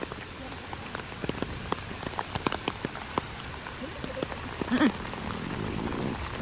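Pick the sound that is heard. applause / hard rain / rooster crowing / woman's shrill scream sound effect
hard rain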